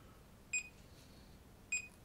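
Two short, thin electronic beeps from a Chinon DB-010 databank watch as its button is pressed, spaced about a second apart, clear against a quiet background.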